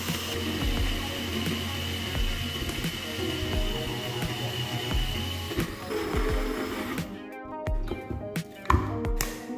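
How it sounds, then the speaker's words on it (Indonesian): A blender grinding peeled cacao beans into clumping powder, a steady motor drone with irregular knocks and rattles, then cutting out into short, choppy bursts toward the end, no talking. "lalu biji kakao saya giling dengan mesin blender"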